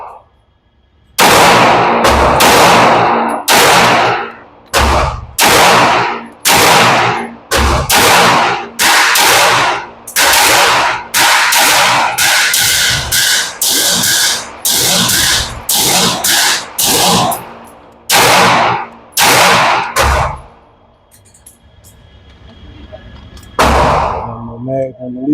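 Rapid pistol fire from a Legion handgun on an outdoor shooting range: about twenty sharp, loud shots in quick runs with brief gaps, a pause near the end, then two more, with a voice faintly under the shooting.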